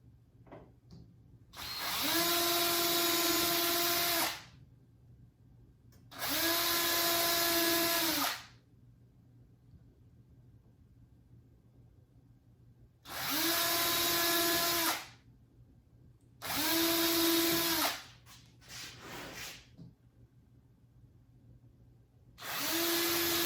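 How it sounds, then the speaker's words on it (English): A power drill whines boring holes in wood in several bursts of a few seconds each, separated by short pauses, close and loud, the last burst sputtering unevenly. "Drill in the center of our holes that we marked."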